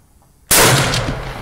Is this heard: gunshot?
yes